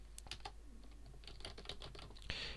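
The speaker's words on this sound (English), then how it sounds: "And I'm going to type in here" Quick, light clicks of typing on a computer keyboard, close and fairly quiet, in an irregular burst of keystrokes ending in a slightly louder press.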